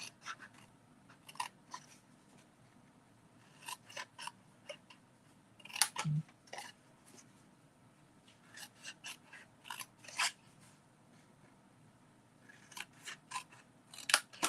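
Scissors snip through card for a fold card and treat box, giving quiet, close crisp cuts in short irregular bursts with pauses between them, alone and without talk.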